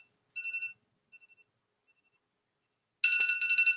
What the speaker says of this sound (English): Sorry, that's my phone. That is my phone.